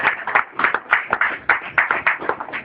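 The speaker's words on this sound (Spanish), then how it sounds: "Denle las palmas al Señor." A church congregation claps hands in a steady, rhythmic beat during a Spanish-language sermon, loud, close and continuous with no talk over it.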